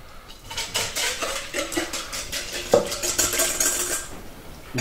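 Metal utensils clink and scrape against a cooking pot in quick, repeated stirring strokes, close and busy, with no voices.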